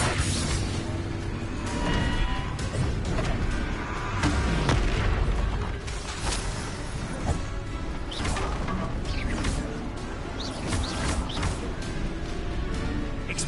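Spell combat in Hogwarts Legacy fills the space with a dense, continuous barrage of booming blasts, crashes and cracking impacts, loud and close, with bursts following one another without pause and no voices over them.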